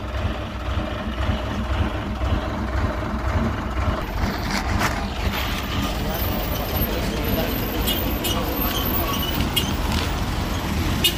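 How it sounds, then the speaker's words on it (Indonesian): PS 190 truck engine running while hauling a 30-ton load, a deep heavy diesel rumble that holds steady and loud throughout, with faint bursts of background noise on top. "Ya, ini truk PS 190 ya"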